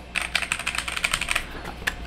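Typing on a 75% layout mechanical keyboard: a steady run of crisp, close key clicks at an even rhythm, pausing near the end before one last keystroke, with no voices.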